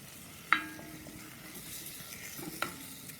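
Flour being stirred into fat for a roux in a beef stew pot, a soft continuous sizzle with two sharp spoon-against-pot clinks, close and alone.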